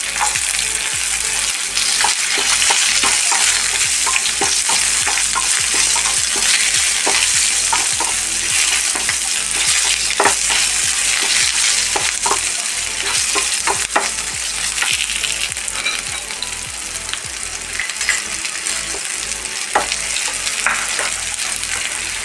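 Garlic frying in a pan gives a loud, continuous sizzle with frequent scraping and knocking as a spoon stirs it, all with no talk.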